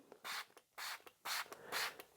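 Four short bursts of cleaner sprayed onto Alcantara fabric, each a hissing puff roughly half a second long, evenly spaced with brief quiet gaps, close by with no talking.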